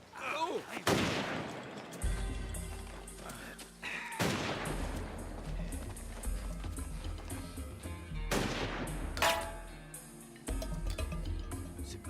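Loud gunshots crack out from a gunman firing in a TV drama scene, several sharp blasts spaced a few seconds apart, each ringing into a dense, echoing tail over a tense low background.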